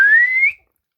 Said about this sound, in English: Whistle with me.